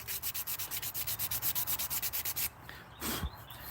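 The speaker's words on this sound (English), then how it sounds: "I'm sanding another sling" Rapid, rhythmic back-and-forth sanding strokes on a sling, close and steady, about seven per second, then stopping for a moment of quieter rubbing.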